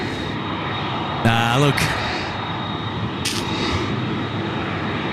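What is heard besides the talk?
Qantas jet airliner at Sydney Airport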